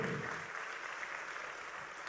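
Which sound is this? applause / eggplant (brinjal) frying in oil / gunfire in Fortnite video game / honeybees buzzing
applause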